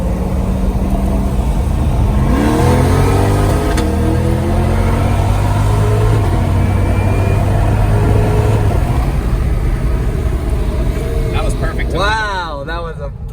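A C8 Corvette races another car, engines revving and rising in pitch through a loud, sustained roar that carries steadily, with people talking excitedly over it throughout.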